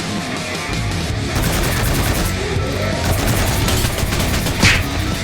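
Rapid bursts of automatic gunfire from a video game ring out continuously, dense and loud, with one sharper bang near the end and no talking over it.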